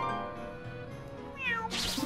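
A house cat meows several times in a row, close and clear, the cries rising and falling in pitch and ending in a louder, breathier call, with faint game music in the background.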